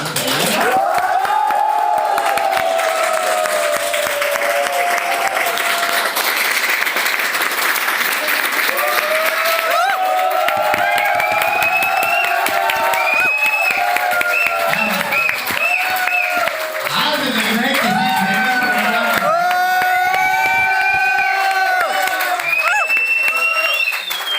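A crowd at a live speech in Ahmedabad claps and cheers loudly and continuously, with shouting voices and whoops rising over the steady roar of applause.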